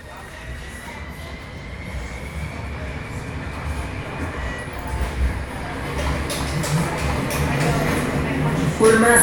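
Bucharest M2 metro train in motion, a loud rumbling roar that builds steadily with rattling and faint wheel squeal, heard from inside the car, with some voices under it.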